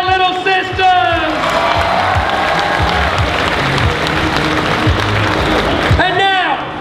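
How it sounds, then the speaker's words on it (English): Audience at a cosplay session of the EB Expo 2012 gaming convention applauds and cheers steadily for several seconds. An amplified announcer's voice talks over the start, and whoops rise near the end. "Clap your hands for our little sisters!"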